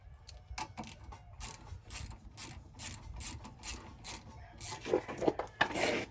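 A ratchet with a 12mm socket tightening a brake bolt on a Honda Element, heard as rapid, rhythmic clicking bursts in close succession that grow louder toward the end, with no talking.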